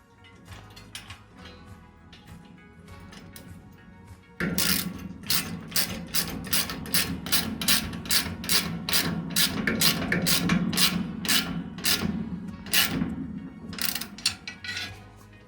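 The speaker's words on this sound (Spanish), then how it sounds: "He puesto de nuevo el vaso del número 17 y vamos a apretar esta pieza." A ratchet wrench fitted with a 17 mm socket tightens a nut while a home gym's arm cable and pulley assembly is put together. Faint handling comes first, then a long run of quick, loud, close ratchet clicks.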